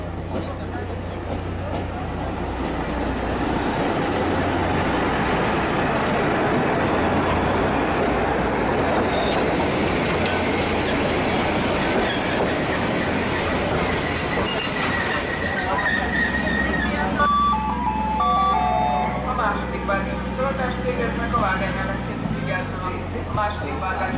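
A Gyermekvasút (children's railway) train rolls into the Széchenyi-hegy terminus with a steady rumble, then wheels squeal and brakes hiss as it slows, loud and close, with voices talking over it.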